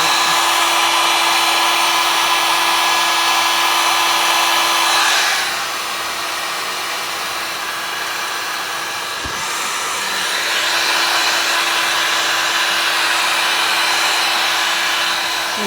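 A heat tool blows hot air onto a piece in a river tumbler craft project, a loud steady rushing hiss with a constant motor hum, dipping slightly in the middle of the run and then rising again.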